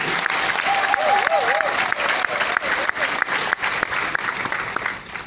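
Applause from an audience of distributors and partners at an evening business gathering, dense steady clapping at close range with a faint voice or whistle-like tone briefly riding over it.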